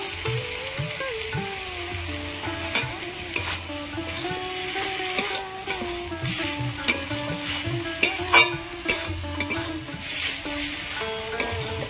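Prawns, brinjal and jukti flowers sizzle while being stir-fried in a pan, with steady frying hiss and repeated scraping stirs close by, and a faint tonal voice or music underneath.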